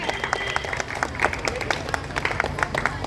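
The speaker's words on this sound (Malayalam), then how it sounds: "എല്ലാരും നല്ല കയ്യടി കൊടുത്തേ" Audience clapping for a rappelling performer at a school adventure event in Pala, a steady patter of many hands filling the space without a break.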